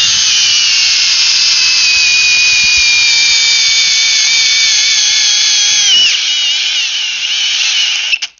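A Milwaukee 2904 cordless hammer drill on a fully charged 6-amp-hour battery runs at full speed during a torque test, a loud, steady, close whine that drops in pitch around six seconds and then winds down to a stop.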